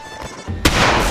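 A single loud gunshot bursts out in a film scene midway through, cutting sharply across a quieter background and leaving a ringing, noisy tail.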